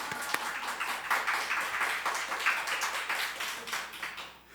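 A church congregation at a Sunday service claps for a member, producing a fairly soft, scattered round of applause with uneven swells that thins out toward the end.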